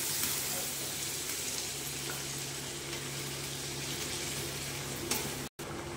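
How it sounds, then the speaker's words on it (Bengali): Water poured into browned chicken curry frying in a pan gives a steady hiss and sizzle with a faint pouring rush, close and constant for several seconds, then a brief dropout near the end. "এবার দিয়ে দিচ্ছি জল, দিয়ে দিচ্ছি জল।"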